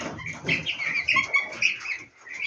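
Thirteen-day-old broiler chickens peck at alfalfa, giving off a busy stream of soft, high peeping chirps and faint rustling, close by and without talk.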